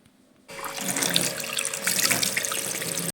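A kitchen tap runs steadily into a sink during handwashing after cooking, a close, continuous splashing gush that starts abruptly and stops just as suddenly about three seconds later.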